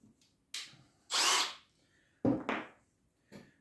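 A power drill pre-drills holes for small screws in three short whirring bursts separated by pauses, near and clear, with the bit grinding into the material and no talk.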